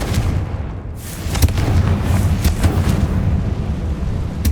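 Blasting Confringo spells explode repeatedly in Hogwarts Legacy, a dense run of booming bursts and crackling impacts over a constant low rumble, loud and close, with no voices.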